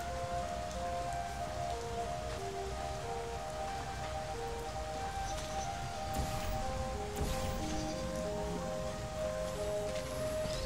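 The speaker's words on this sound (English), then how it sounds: "The rain has stopped." Rain falls in the video game Portal: Revolution as a steady patter on surfaces, with sustained musical tones layered over it throughout.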